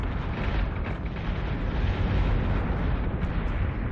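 Ship battery fire and explosions roar in the Battlestar Galactica game, a dense, continuous booming rumble that holds loud and steady for a few seconds without a break.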